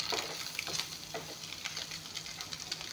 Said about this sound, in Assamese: কণীখিনিও ভালকৈ ভাজি ল'লোঁ।